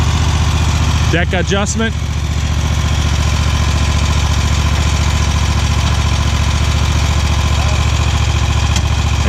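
Riding lawn mower engine turns over, catches and settles into a steady, loud, close idle drone, with a brief burst of speech early on over the running engine.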